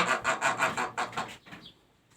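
A white Pekin duck calling loudly, a rapid series of about eight harsh quacks close by, then fading into quieter background.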